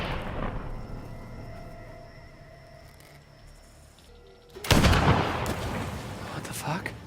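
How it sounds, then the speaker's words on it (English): A single loud gunshot in a survival horror video game rings out about two-thirds of the way through, sharp and close, over a quiet ambient game background. "Did she shoot at us?"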